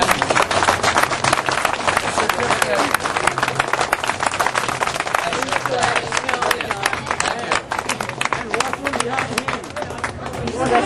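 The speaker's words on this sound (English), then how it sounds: "Let's have a big round of applause one more time." Crowd applause at a spicy dosa eating contest, dense sustained clapping from many people filling the whole stretch, loud and steady with faint chatter mixed in.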